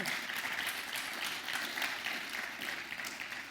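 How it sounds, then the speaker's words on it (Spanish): Sustained applause from a church congregation praising the Lord, a steady wash of clapping that holds at moderate level throughout, heard from a distance. "Denle un aplauso al Señor."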